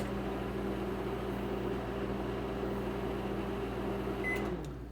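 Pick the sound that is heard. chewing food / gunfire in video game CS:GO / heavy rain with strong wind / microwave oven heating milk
microwave oven heating milk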